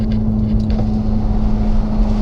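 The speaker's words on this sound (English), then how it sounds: "And here is just the windows down so you can kind of hear some of it. Hopefully I'll let you hear the engine a little better." Ferrari 458 naturally aspirated V8 heard from inside with the windows down: a steady, close engine drone mixed with wind rush over a brief stretch.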